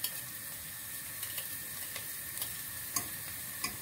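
Garlic cloves fry in a pot for a broccoli and cheese soup, giving a soft, steady sizzle with scattered light ticks and pops, fairly quiet and with no talk.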